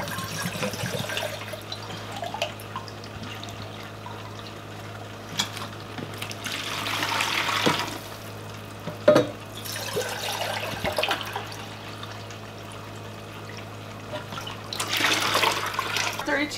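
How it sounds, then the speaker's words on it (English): Roughly 32 ounces of water poured into a bucket for water-glassing eggs, heard as a few bursts of splashing and trickling over a steady hum, with near room quiet between pours. "Let's pour out our 32 ounces of water."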